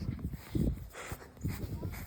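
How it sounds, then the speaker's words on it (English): A neighbor's dog in a backyard whimpers and gives a few short barks in uneven bursts, fairly close, against low outdoor background noise. "Why is the neighbor's dog in our yard again?"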